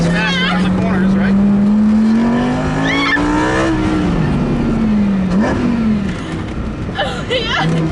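Lamborghini LP 610 accelerating hard around a track during a ride-along, engine note rising and falling through the corners, close and loud under excited passenger voices and shouts.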